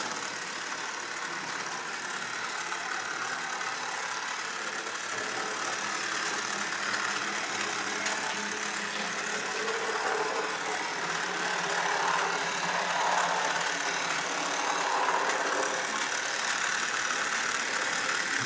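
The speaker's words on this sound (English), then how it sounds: "It is a pretty loud toy train." An O scale Virginia and Truckee toy train runs on a Faulhaber replacement motor, with GDR-made cogwheels and axles and cast iron wheel rims. It gives a loud, steady mechanical whir and rumble that holds for the whole stretch, with no talking.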